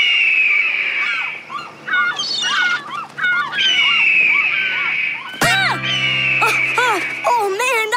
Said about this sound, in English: Audrey, play the hawk sound through the polo boat speakers. As loud as you can.